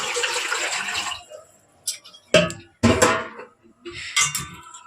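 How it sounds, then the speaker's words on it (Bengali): Water poured from a container into a pan for steaming soft boiled puli dumplings, a rushing pour followed by several short splashes and clatters of the pan, close and fairly loud, with no talking. "আর এটা দেবো কিছুটা জল"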